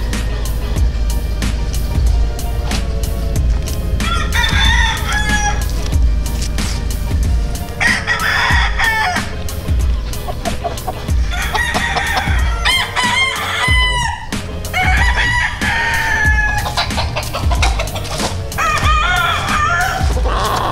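Rooster crowing repeatedly, a series of loud drawn-out calls near the listener, interspersed with clucking over a steady background hum, no speech.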